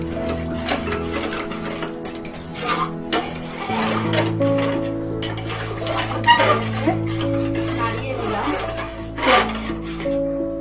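Metal clatter and scraping of a lid and spoon in a cooking pot while polao is stirred over a high gas flame, irregular knocks and clanks over a steady low hum, fairly close and loud.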